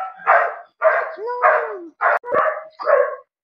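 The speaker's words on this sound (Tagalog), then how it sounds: "Iwan na naman siya. Kaya tahol ng tahol." Close, loud dog barks come in a quick irregular series of six, some with a whiny, yelping edge, and no other sounds around them.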